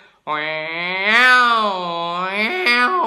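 A single drawn-out wailing yowl from a human voice mimicking a cat, rising and wavering for about three seconds, close and loud.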